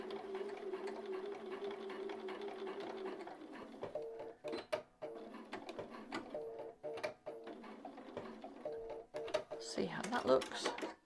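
A sewing machine topstitches a seam on a blazer, its steady motor whir running for several seconds before breaking into shorter stop-start bursts, close and moderately loud, with a person talking between runs.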